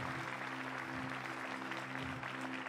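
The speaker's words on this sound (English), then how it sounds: "give the Lord a good hand clap" A church congregation claps steadily for a few seconds in a broad wash of hand claps that fills the room, while a voice carries on underneath.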